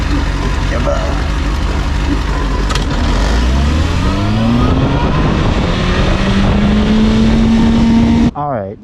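A motorcycle with a broken clutch cable is push-started and bumped into gear, its engine catching and revving up in a rising, loud whine that climbs steadily for several seconds before cutting off abruptly at the end.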